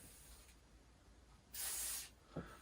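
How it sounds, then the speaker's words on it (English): PTFE lubricant sprayed from an aerosol can onto gym bars in a garage gym: one quiet hiss lasting about half a second, followed by a short faint tap. "I just give it a bit of a spray,"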